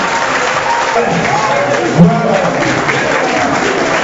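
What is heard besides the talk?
audience applause for the two candidates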